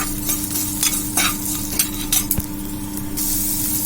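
Onions sautéing in oil for a crab gravy, a close, busy sizzle broken by repeated scraping strokes and a metallic clink as the pan is stirred, over a steady background hum.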